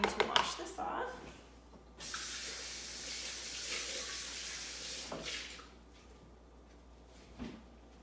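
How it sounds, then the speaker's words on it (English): Water runs from a kitchen tap for a few seconds while something is rinsed off before making overnight oats, a steady hiss rising and falling with brief clatters and quieter gaps. "I'm going to wash this off."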